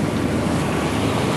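A sailboat motor-sails through big waves in gusting wind near the Irish Sea coast, a steady low engine drone under continuous rushing water and wind noise.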